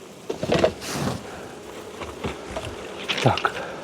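Honeybees from a caught swarm buzz softly in a steady background drone, with a few sharper bursts of activity and some handling noise close by as the bees are shaken out.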